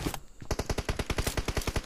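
Rapid automatic gunfire from a teammate in PUBG Mobile, a loud close burst of about a dozen evenly spaced shots after a couple of brief opening cracks, with no talk.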